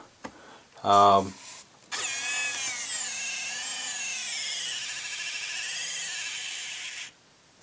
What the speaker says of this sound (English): this battery operated screwdriver works very well